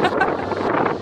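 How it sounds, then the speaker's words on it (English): Strong wind buffets the microphone outdoors at a camper pickup on Ibiza, a steady loud rumbling roar that fills the whole moment without pause. "Very windy here"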